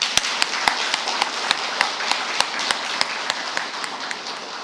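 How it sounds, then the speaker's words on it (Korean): A church congregation at a Catholic Mass claps in thanks, with sparse, separate hand claps at an even pace close by, gradually thinning out, and no one talking. "하느님께도 감사의 박수를 한번 쳐드릴까요?"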